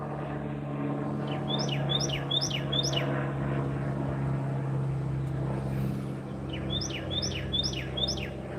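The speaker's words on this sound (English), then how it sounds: "You hear a bird, right?" Bird chirping outdoors in repeated quick bursts, clear against a steady low rumble, with a group of calls early and another group near the end.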